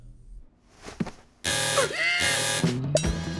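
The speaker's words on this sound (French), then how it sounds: "Alarme activée." A cartoon alarm suddenly switches on after a few quiet knocks, blaring loud and sustained with a buzzing, siren-like tone that wavers and dips before continuing.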